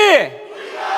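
A large crowd at a political rally in Gwangju bellows a short slogan together, one loud unified shout that quickly trails off into murmuring.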